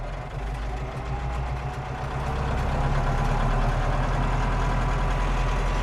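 A Landini Blizzard 65 tractor with a flail mower attached runs its engine nearby, a loud, continuous low rumble that swells slightly about two seconds in and then holds steady.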